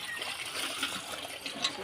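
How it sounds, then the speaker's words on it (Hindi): Water gushes from a chapakal hand pump into a vessel during village cooking chores, a close, continuous splashing stream with a voice faintly heard underneath. "ये रहा मेरा चापाकल"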